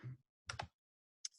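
A few sharp keystrokes on a computer keyboard, a quick double tap and a later single click, close and isolated in a quiet room.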